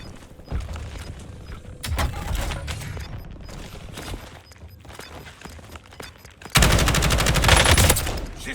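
Scattered gunfire in the Warzone shooter game: several sharp shots and short bursts over a low ambient rumble, ending in a loud sustained volley of rapid fire.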